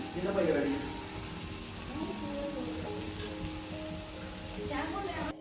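Masala spices including chilli and coriander powder fry in a pan for a fish head curry, giving a soft steady sizzle with light crackling, while a voice talks faintly at the start and end.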